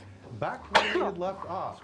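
A single sharp sneeze bursts out close by during a tabletop role-playing session, with people talking on either side of it.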